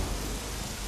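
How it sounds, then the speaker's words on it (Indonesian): Steady heavy rainfall, a dense, even hiss with no pauses, loud and close. "Lihat hujan ini."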